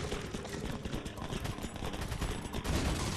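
Enemy gunfire in Resident Evil 4, a dense, continuous volley of shots and crackling impacts filling the whole stretch at steady loudness, with no talk over it.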